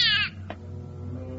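A cat gives a single short, high meow at the start, close by and fairly clear, followed by a low background hum with a faint click.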